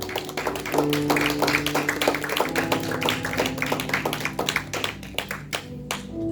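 A church congregation claps their hands together, many dense overlapping claps filling the whole stretch at a steady level, with sustained tones held underneath.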